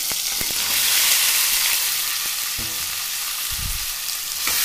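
Finely chopped bell pepper fries in oil with a continuous crackling sizzle, and a few louder knocks and scrapes as the pan is stirred.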